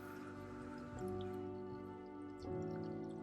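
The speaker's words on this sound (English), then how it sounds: "So I have a python that connects to my sink. You can kind of hear the sound it makes." Water from a running sink flows through an aquarium python siphon while a Waterbox Mini Peninsula 15-gallon tank is prepped, giving a steady close hiss and gurgle that swells louder twice, with no talk.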